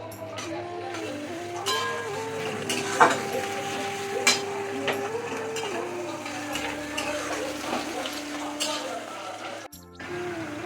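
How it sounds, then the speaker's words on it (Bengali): Onions frying in a pan with a low sizzle, broken by scraping and clinks as they are stirred, over a faint steady tonal hum in the background. "পেঁয়াজগুলো প্রায় ভাজা হয়ে গেছে নাকি?"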